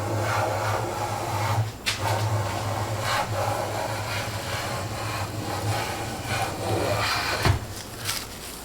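A hand plane shaves a thin curl from a wooden board, giving a close, rasping swish of steel on wood that repeats in short strokes, with a soft knock near the end.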